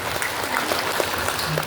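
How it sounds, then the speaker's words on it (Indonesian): Audience applause at an Islamic religious gathering, a dense steady patter of clapping sustained throughout at an even level. "Tepuk tangan untuk kita semua."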